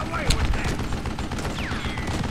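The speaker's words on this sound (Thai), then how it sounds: "เดี๋ยวมีใครมีคนยิงนะ" Gunfire in the video game Call of Juarez: a sharp shot cracks near the start, then rattling bursts and game effects follow, with players talking over the action.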